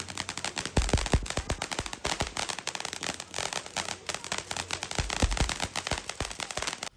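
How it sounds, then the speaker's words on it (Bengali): New Year fireworks and firecrackers go off in a dense, continuous barrage of sharp cracks and pops, rapid and loud with occasional deeper booms, sustained throughout without pause. "এরপরেই আমরা চলে যাই বাজি ফোটাতে"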